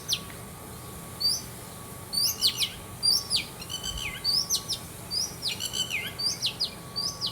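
Sparrows chirp in a lively outdoor chorus, with quick, repeated high tweets arriving in bursts close by over a faint, steady background hum. No voices are heard.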